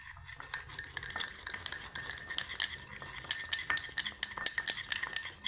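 A spoon stirs an alum remedy mixed with coconut oil in a bowl, making rapid clinking and scraping taps that speed up and grow busier toward the end, close up and with no talk.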